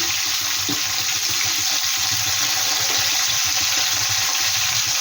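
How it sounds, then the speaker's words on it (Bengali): Fish frying with a little salt in a pan for koi with cauliflower, a steady close sizzle running the whole time with a few soft clinks beneath it, no voice. "একসাথে দুটো আমি ভেজে নেব অল্প করে একটু লবণ দিয়ে দিলাম"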